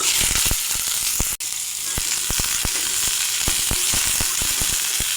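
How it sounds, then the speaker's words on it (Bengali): Drumstick (moringa) stems frying in hot oil in the same pan just used for potatoes, a steady close sizzle with scattered sharp crackles and pops throughout. "ওই একই তেলে সজনা ডাঁটা ভেজে নেব।"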